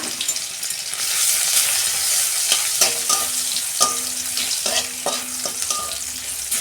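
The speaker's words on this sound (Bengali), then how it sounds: "রসুনটাকে আমি একটু ভেজে নেব।" Garlic and two dried red chillies sizzle in hot oil as a tempering, a steady bright frying hiss with occasional clicks of utensil stirring, close and loud with no voices.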